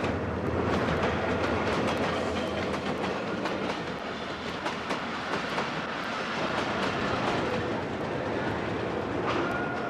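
The Khyber Mail passenger train of Pakistan Railways rolls toward Lahore, a continuous loud rumble heard from on board with rhythmic clickety-clack of wheels over rail joints throughout.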